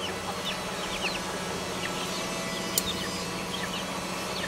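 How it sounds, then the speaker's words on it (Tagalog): Chickens at feeding time on a farm, with steady soft clucking and scattered chirps over a constant background hum, moderately distant and fairly quiet, with no talk. "Pakainin natin yung mga chicken para dumami na naman."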